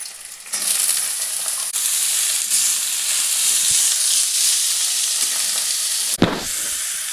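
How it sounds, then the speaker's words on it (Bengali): Onion, green chilli, bottle gourd peel and nigella seeds hit hot oil with a loud, steady sizzle that runs close and continuous. A sharp clatter of a utensil comes near the end. "একটু পেঁয়াজ, কাঁচা লঙ্কা, আর দেব লাউয়ের চোচা, সাথে কালো জিরে।"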